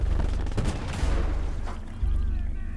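An MG42 machine gun hammers out loud rapid fire in the World War II game Gates of Hell at Utah Beach, with a short break before the burst picks up again amid battle noise.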